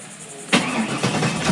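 A car engine cranks and catches abruptly, then runs with a rough idle and a brief rev, heard close and loud with no talking.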